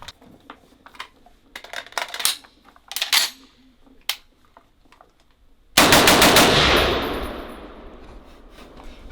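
Chinese-made M14 clone rifle firing outdoors, a string of sharp, loud single shots spaced apart, then one big blast with a long ringing decay.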